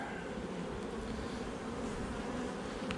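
Honey bees hum in a dense, steady swarm-like drone at a hive in a seaside apiary in May, the buzzing continuous and close throughout.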